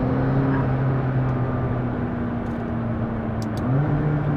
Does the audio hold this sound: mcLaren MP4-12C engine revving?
yes